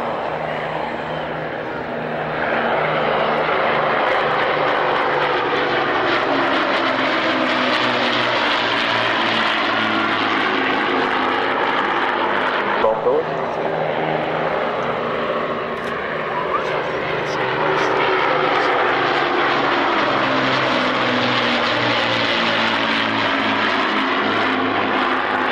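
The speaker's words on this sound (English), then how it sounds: "That's the Lancaster." Avro Lancaster bomber flying past at an airshow, its steady multi-engine propeller drone loud and continuous with a slowly shifting pitch as it passes, a voice speaking faintly under it.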